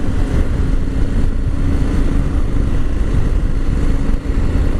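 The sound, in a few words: 2022 KTM 890 Adventure motorcycle engine while riding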